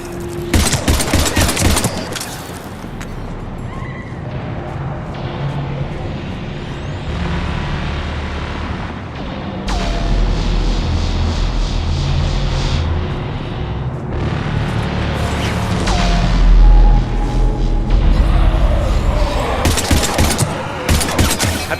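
Sustained gunfire against Husks in Mass Effect 3: loud, dense bursts of rapid shots and impacts with heavy rumbling booms, continuous battle noise throughout with no voices.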